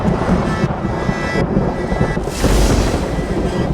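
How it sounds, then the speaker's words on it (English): Thunder cracking open the heavens as a sound effect in a Dark Eden Mutant Chronicles fiction audio drama: loud, dense rumbling roar with a rougher burst midway, close and continuous without any voices. "thunder cracked open the heavens"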